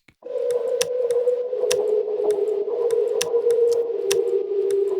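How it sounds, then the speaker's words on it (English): A sliced keyboard sample forming a groove: a steady sustained tone with evenly spaced percussive ticks repeating in a regular rhythm, played alone. "let's actually try to slice it up a bit and make a groove that goes something like tuk, tuk, tuk, tuk, tuk, tuk."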